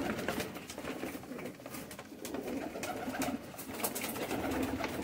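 Pigeons cooing steadily alongside the rapid flutter and clap of wings as a flock takes flight outdoors, continuous and fairly close, with no talking.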